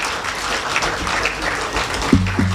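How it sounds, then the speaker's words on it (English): Steady applause from a crowd at a groundbreaking ceremony, a dense patter of many hands clapping, with a low musical tone entering at the end. "Please, may you give them a round of applause"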